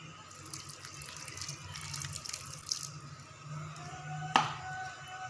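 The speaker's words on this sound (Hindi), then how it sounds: "इसमें पानी डाल दें।" Water poured into a bowl of besan and chopped onion for a thin naan batter, a steady splashing trickle in a quiet kitchen with a brief sharp clink near the end.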